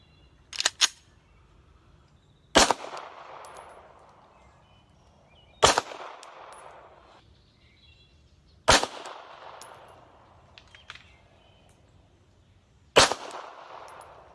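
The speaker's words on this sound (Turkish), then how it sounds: "iki normal mermiyle iki de subsonic mermiyle aradaki ses farkına dikkat edin" Four sharp gunshots, two with normal rounds and two with subsonic rounds, loud and evenly spaced a few seconds apart, each followed by a short echoing tail; a lighter double crack comes first.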